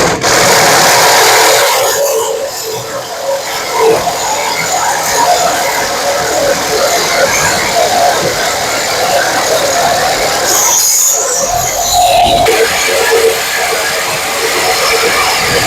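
Power cutting tool running continuously through metal while lowering a Honda Civic EF, a steady loud grinding rasp that drops out briefly near the end before resuming, with no talk.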